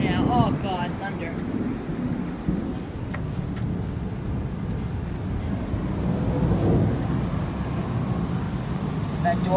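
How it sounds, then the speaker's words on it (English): Heavy rain hisses steadily with a low rumble of thunder rolling underneath and wind buffeting the microphone outside the Port Chester Metro-North railroad station; a voice speaks briefly near the start. "It's raining out here now. Oh God, thunder."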